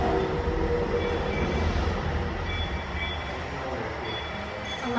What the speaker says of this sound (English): Push the button to watch the train go.